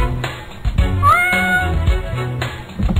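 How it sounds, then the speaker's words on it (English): A cat meows loudly and repeatedly in the game Shift Heads, rising and falling in pitch, over a low background of thumping game noise. "that cat's getting annoying."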